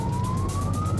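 A police car siren on Camp Road, Broadmeadows, wails loud and close as a single rising tone over a low engine rumble, with no talking.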